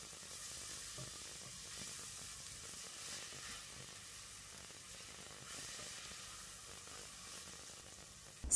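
Chopped yellow onions and minced garlic cooking in a soup pot give off a soft, steady sizzle that runs evenly from start to end, with no voices.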